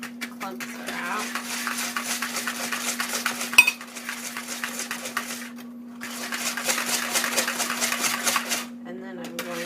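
Sugar being mixed into homemade pumpkin pie filling in a bowl, with a utensil clinking and scraping steadily against the bowl over a constant background hum, briefly pausing before the stirring resumes.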